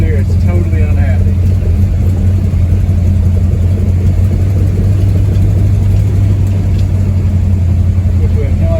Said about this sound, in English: The engine still ain't real happy.